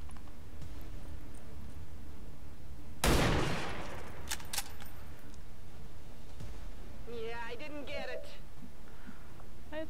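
One sharp, loud shot from XCOM Long War of the Chosen bursts out after a few seconds of low background noise, followed by a short ringing tail, with voices briefly present.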